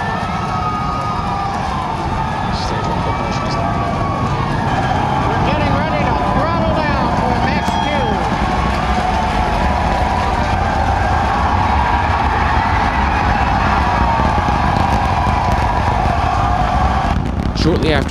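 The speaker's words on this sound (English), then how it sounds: "When the Falcon Heavy did launch, there was an eruption from the crowd that you thought would never end." A Falcon Heavy rocket launch: a continuous, loud, broad roar sustained throughout, blended with a crowd's prolonged cheering and shouting.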